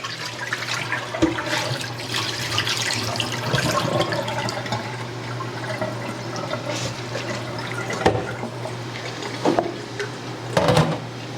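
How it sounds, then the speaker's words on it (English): Water pours and drains steadily nearby as it is strained off chickpeas, punctuated by a few sharp clinks and knocks of a container, with no voices. "And I'll strain off this water"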